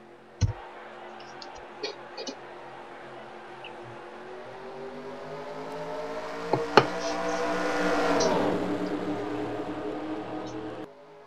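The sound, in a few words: NASCAR stock cars racing at Talladega race start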